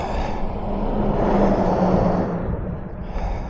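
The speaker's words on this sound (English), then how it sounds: "Logging truck." A DAF logging truck passes on a rural road in Northumberland, its broad diesel rumble swelling to a peak around the middle and then fading, steady and fairly near, with wind in the background and no talk.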